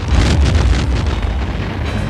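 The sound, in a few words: explosions during film stunts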